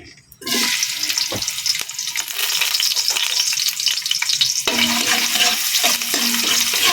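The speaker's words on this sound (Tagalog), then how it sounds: "Kaya na tayo ng mantika. Iuna ko yung luya." Ginger dropped into hot cooking oil, an immediate loud sizzle that continues steadily, with intermittent stirring and scraping clatter from a pan.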